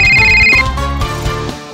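A phone ringtone sounds in the video game Corrupt, a loud electronic melody of sustained, shifting tones with a bright held note at the start, playing alone.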